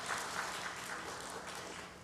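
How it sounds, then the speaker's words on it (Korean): Brief applause at a church prayer gathering, a soft, steady patter of clapping from a group, heard at a distance and fading slightly toward the end. "박수"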